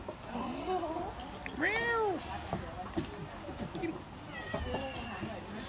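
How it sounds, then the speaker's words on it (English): A cat meows several times, short rising-and-falling cries in the middle and near the end, heard close over a busy outdoor background with faint voices. "The cat's going to join us for lunch."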